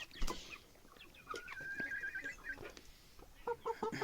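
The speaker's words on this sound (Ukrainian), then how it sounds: "Але ж ти такий вреднючий півень." Chickens cluck and a rooster calls in a farmyard, a drawn-out crowing note in the middle and short clucks near the end, moderately close over a quiet background.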